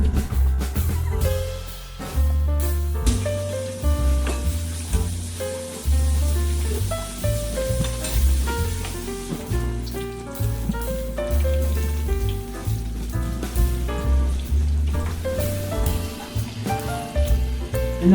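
Breaded cheese sticks fry in hot grease, a dense crackling sizzle with rain-like pops that runs throughout at close range, swelling and easing in loudness, with no voices.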